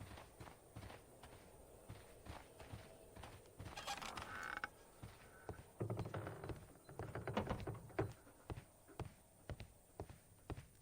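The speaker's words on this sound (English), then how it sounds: "Very creaky building." A creaky building in the game Sherlock Holmes: Crimes and Punishments gives off faint wooden creaks and groans mixed with soft footsteps and knocks in a quiet interior, with a louder burst of creaking partway through and no talking.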